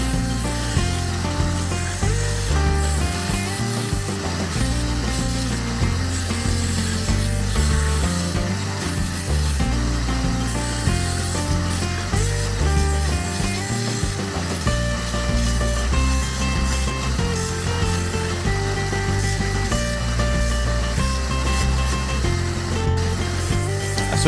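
A belt sander with an 80 grit belt grinds wooden knife handle scales on a hunter knife kit, giving a steady, loud, continuous abrasive roar with the motor's hum underneath and slight shifts in pressure throughout, with no voices.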